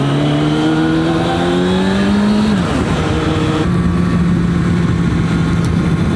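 Suzuki SRAD motorcycle riding on a road in cold weather, its engine loud and close, with a rising tone that drops as it shifts gear and then holds a steady cruising drone.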